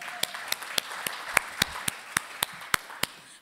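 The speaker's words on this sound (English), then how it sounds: "Yes, a round of applause, please." Sparse applause at an academic digital humanities talk: about a dozen distinct claps in a steady, unhurried rhythm, moderately close, with faint room noise and no speech.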